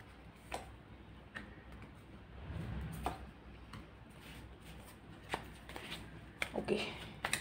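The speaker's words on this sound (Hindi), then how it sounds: "3 कार्ड्स निकालेंगे लियोज हम।" Tarot cards are shuffled and drawn by hand, soft scattered flicks and taps spread unevenly across the stretch, quiet and close, with some low handling rustle.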